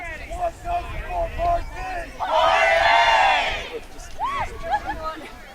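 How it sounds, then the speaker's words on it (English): A university quidditch team from UVic shouts a loud group cheer at a play-in match against Edmonton, a sustained chorus of voices swelling over crowd chatter for a couple of seconds before fading back into murmur. "The UVic cheer sounded fun."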